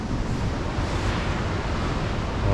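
Ocean waves crash on a rocky shore in Malta, making a continuous broadband roar with wind buffeting the microphone, steady and loud throughout, with no voices.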